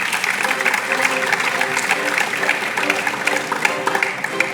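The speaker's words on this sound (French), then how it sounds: "Vous méritez une bonne main d'applaudissement." Steady crowd applause at a recognition evening greets team members coming onstage, a continuous dense patter of clapping, with some voices mixed in underneath.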